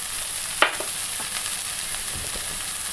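Onions browned on low heat in a pan, frying softly with a continuous close sizzle and one brief spoon clink early on, no speech.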